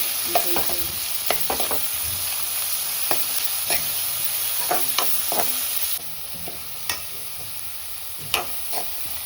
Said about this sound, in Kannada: ಕಟ್ ಮಾಡಿದ ನೀರುಳ್ಳಿ ಪಾವಡು ಪಾರ್ಗಡೆಯಲ್ಲಿ ಫ್ರೈ ಮಾಡ್ತೇವೆ